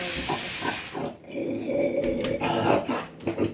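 A pressure cooker whistle lets off a loud, hissing rush of steam that cuts off after about a second, followed by quieter kitchen clatter and a fainter hiss.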